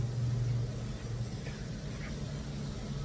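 A Ford Mustang cruising on the road, heard from inside as a steady low engine drone and road rumble with a faint hum, no voices over it.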